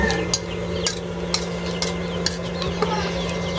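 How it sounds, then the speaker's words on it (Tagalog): Spoon stirring banana pancake batter in a bowl, with soft repeated scraping and faint clinks at a steady pace over a constant low hum, with no one speaking. "Ayan na siya, i-mix lang po natin."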